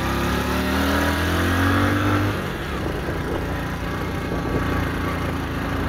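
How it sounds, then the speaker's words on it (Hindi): A Hero Splendor motorcycle engine labors on a mountain road near Malana, droning steadily at low speed; a brief rising rev gives way to a rougher, quieter running note with wind and road noise. "मेरी बाइक 30 से ऊपर जा भी नहीं रही"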